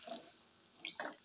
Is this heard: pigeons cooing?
no